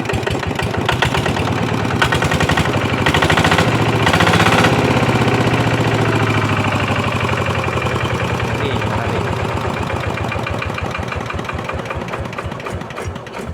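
A TF 120 DI engine runs nearby with a steady, fast diesel chugging rhythm, loud and continuous throughout, with slight shifts in tone partway through.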